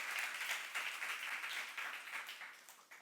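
A church congregation breaks into applause during a youth service sermon, a dense, even wash of clapping that is fairly faint and holds steady throughout.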